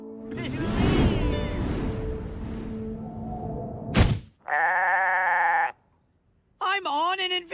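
In the animated series Star vs the Forces of Evil, an invisible goat gives a loud, wavering bleat in the middle after some animated talking and a thump, then a shorter bleat follows.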